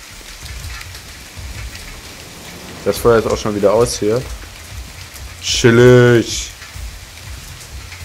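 Steady rain falls in the survival video game The Forest, a constant soft hiss that runs through the whole stretch while someone talks casually in German over it.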